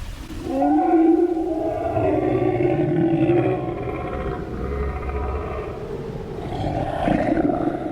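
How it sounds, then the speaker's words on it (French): A simulated large predatory creature gives a T-Rex-like roar, a deep, drawn-out moan rumbling for several seconds, low and resonant with a wavering tone, swelling again near the end. "C'est un cri de gros dinosaure, on dirait un peu le cri d'un T-Rex."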